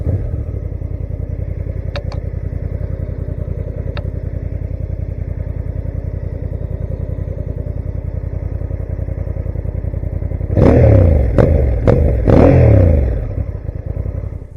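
A Honda NT1100 DCT motorcycle engine runs at a steady, close idle with a throbbing pulse, then swells through a few sharp revs near the end before settling back down, with no talking over it.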